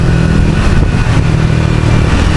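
Triumph Thruxton 400 cafe racer motorcycle engine while riding, a loud, close, continuous mid-pitched engine drone with steady throttle and no voices.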